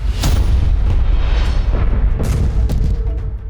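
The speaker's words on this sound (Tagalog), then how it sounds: "Isa ring malakas na pagsabog ang narinig ng OFW na si Mel" A series of deep booms and rumbling blasts, several loud bursts in quick succession over a continuous low roar.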